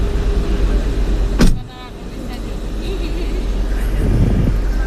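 A car idles close by with a steady low rumble. A sharp thump like a door closing cuts through partway, and faint voices can be heard in the background.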